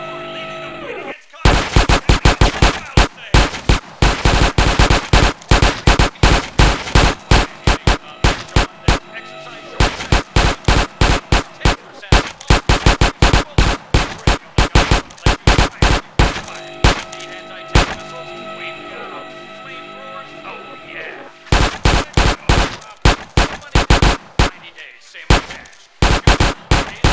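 Rapid, loud gunfire at the Ammu-Nation shooting range in GTA San Andreas, a dense stream of sharp shots in bursts with brief pauses, game weapons firing continuously throughout.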